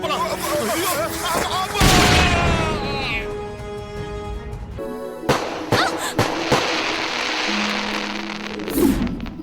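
An explosion after a burning fuse in a Tamil TV drama scene: several sharp, booming blasts and crackling bursts mixed with dramatic background music.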